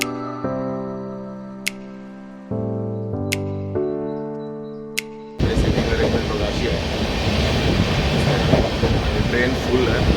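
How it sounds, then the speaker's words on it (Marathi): A packed passenger train from Thane pulls away. Sustained tonal chords and sharp clicks give way to a loud, steady rolling rumble of wheels on track, with people talking faintly. "ट्रेन निघाली आपली, लगेच निघाली 2 मिनटात"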